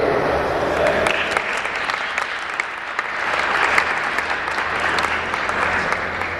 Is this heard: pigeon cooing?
no